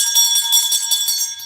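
A bright, high bell rings steadily with a sustained shimmering tone throughout, with no voices.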